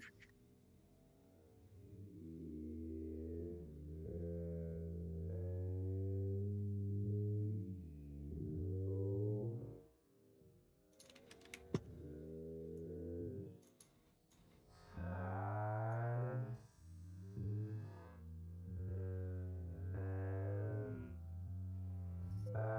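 Warped, reversed-sounding tones swell and slur in pitch, a long eerie smear of processed sound with brief gaps, loud and continuous.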